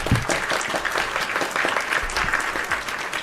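Studio audience clapping to welcome a guest to a Spanish-language talk show, a dense, steady patter of many hands, close and lively throughout.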